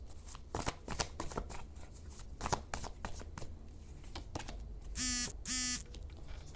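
Tarot cards being shuffled by hand in a run of crisp riffling bursts, close and fairly quiet, followed by two short electronic beep-like tones near the end.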